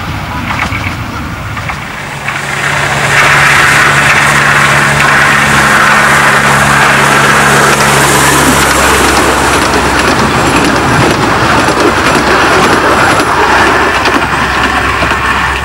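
A diesel locomotive on the Cleethorpes Coast Light Railway rumbles loudly past at close range, with a low steady engine drone and rattling running noise that build after a quieter start and hold for the rest.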